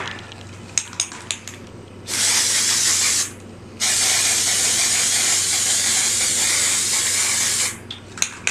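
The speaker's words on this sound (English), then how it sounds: "we're just going to paint the gauntlet itself right now with this" A spray can paints a 3D printed Thanos gauntlet in two sustained bursts of hiss, a short one and then a longer one, with light clicks and handling noises before and after.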